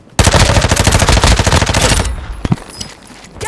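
Automatic gunfire in the video game Warzone 2: a loud, close burst of rapid shots lasting about two seconds, followed by a few scattered single cracks and fading echoes.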